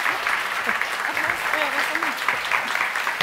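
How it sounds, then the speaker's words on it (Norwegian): A standing audience at Litteraturhuset applauding, steady crowd clapping with voices faintly audible beneath it. "det som nå skal skje er at vi skal ta applaus"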